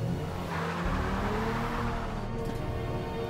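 A car drives off and accelerates in a film, its engine rising in a steady drone that builds over a few seconds with a brief sharp tire-like squeal near the end, no speech present.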